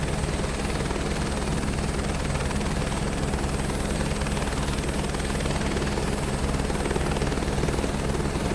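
Helicopter engine and rotor from a flight simulator game's rotary career mode, a loud continuous whirring drone with a throbbing beat as the throttle comes up, steady throughout with no voices.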